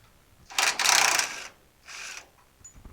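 DeWalt power tool (impact gun) spinning a bolt out while pulling the body off a 1962 Willys station wagon, two bursts of loud, rattling mechanical whirring close by, the first longer and the second shorter, no speech.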